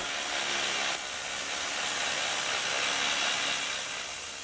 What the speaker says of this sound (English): Water pumped from the surface cools and lubricates the drill bit, but little can dampen its roar